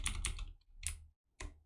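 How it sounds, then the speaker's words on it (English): Keystrokes on a computer keyboard while writing Ruby code, heard as a quick cluster of clicks, a pause, then two more separate bursts, close and fairly quiet with no talking. "I keep typing rules names"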